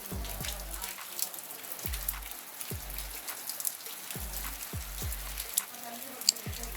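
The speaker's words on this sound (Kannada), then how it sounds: "ಮಳೆ ಬರ್ತಾ ಇದೆ" Rain patters softly, with drops hitting a surface and dripping in an irregular, repeating rhythm against a faint background hiss.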